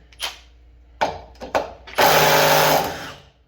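A Milwaukee mid-torque 3/8 impact wrench fires in a few short bursts, then hammers in one loud sustained rattling run for about a second before tapering off, close and alone.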